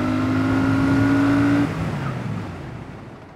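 Benda Napoleon 500 cruiser motorcycle revving hard through a sprint from standstill to 100 km/h, a loud steady engine drone that cuts off and fades as it slows, with no talk.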